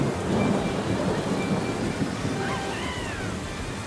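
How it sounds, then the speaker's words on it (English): Thunder rumbles under steady rain from the Thunderstorm item in the racing game Mario Kart World, a loud low roll early that eases into a constant downpour, with faint whistling game tones later. "Also, I see Jazz activate the Thunderstorm, which, my goodness."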